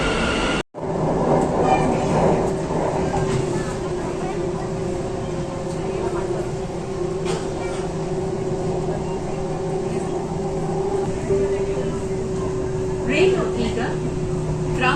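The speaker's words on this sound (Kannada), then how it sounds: "ಮೆಟ್ರೋ ಬಂದ್ಬಿಡ್ತು" A metro train rolls in and runs with a loud, steady rumble and a sustained electric whine, heard close from the platform and then aboard, while a person talks over it.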